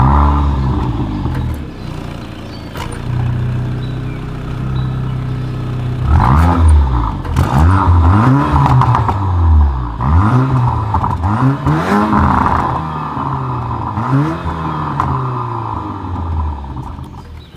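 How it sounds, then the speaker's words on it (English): A 2024 Porsche Macan luxury SUV with dual chrome-tipped exhausts idles, then revs repeatedly in a series of sharp, rising and falling throttle blips heard up close, with no talk. "As always, here is that exhaust clip."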